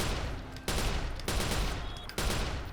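Gunfire in the Watch Dogs video game, three sharp loud shots spaced roughly a second apart, each followed by a rumbling tail that fills the gap before the next one.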